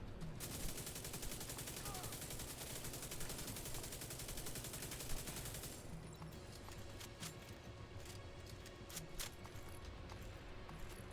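Video game gunfire from The Division 2, rapid continuous shooting that dominates the first half, then scattered sharper shots and impacts over a steady background din.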